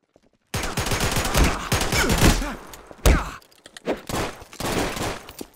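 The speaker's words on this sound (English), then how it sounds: "Hey, why are you shooting this man?" Gunfire in a Garry's Mod multiplayer game, several rapid bursts of shots with short pauses between them, loud and close, with no talking.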